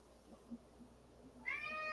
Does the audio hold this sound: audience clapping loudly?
no